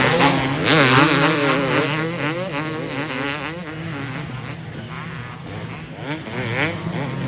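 Two-stroke motocross bikes racing an open pro moto at Glen Helen, several engines buzzing and wailing together at a distance, pitches rising and falling as riders work the throttle through the track.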